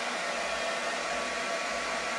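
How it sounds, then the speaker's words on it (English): A hair dryer blows steadily up under an LG refrigerator ice maker to thaw it, a constant close whirring hiss at moderate level with no other sounds. "I've been thawing this out with the hairdryer for a while"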